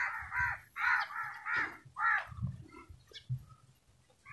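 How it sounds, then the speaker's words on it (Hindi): Crows around a Bohed tree in rural Pakistan give a series of loud, harsh caws in quick bursts, then quieter calls and rustling follow. "कौवे ये क्या कहते हैं।"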